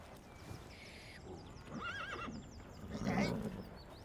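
A lame horse with a stone in its shoe whinnies with a high, wavering neigh amid birdsong and outdoor ambience, followed by a louder snort and shuffling hooves.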